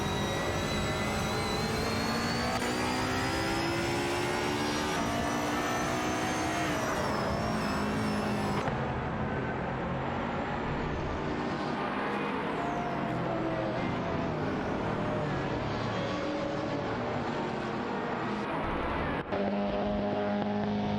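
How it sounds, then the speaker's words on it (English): A racing car in a racing game with AI drivers roars away in a continuous loud engine drone with shifting pitch. The dense noise persists for about twenty seconds without a break. "Racing car dashing away."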